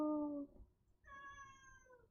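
A pet cat gives two short meows, a lower drawn-out cry followed by a brighter, higher one, fairly faint and close by in a quiet room.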